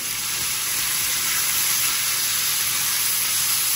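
Water runs steadily from a kitchen tap as greasy hands are rinsed after handling bacon, a close, even hiss that stays constant throughout with no talking.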